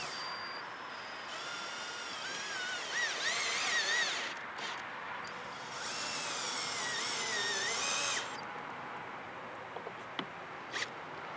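A power drill pre-drills holes to lag a bracket assembly onto a stair railing post. Two sustained whirring runs with a wavering pitch are heard up close, then a few light clicks and taps.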